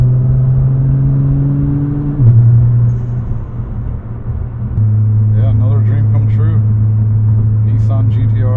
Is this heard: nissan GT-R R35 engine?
yes